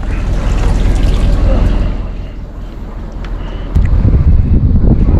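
Strong typhoon wind roars across a river and buffets the microphone in heavy, uneven gusts. It eases midway, then surges loud again toward the end, with no speech over it.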